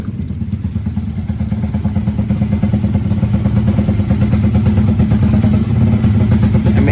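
Racing motorcycles in the paddock at a Motoprix regional final, including R125 race bikes, run steadily at close range, a loud continuous engine drone with a rapid clattering pulse that builds slightly in level.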